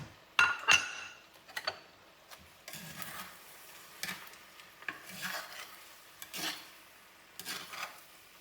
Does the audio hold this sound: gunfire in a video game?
no